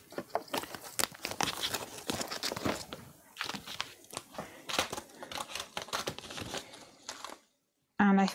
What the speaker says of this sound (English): Let's cut this down.